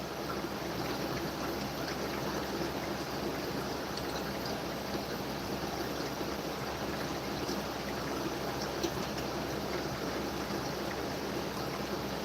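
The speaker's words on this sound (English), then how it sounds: "I kind of like the sound of the water running all the time." Steady, continuous water running and trickling through a homemade overhead sump at a pigpen, a dense, even wash of flow that stays constant throughout with no talk.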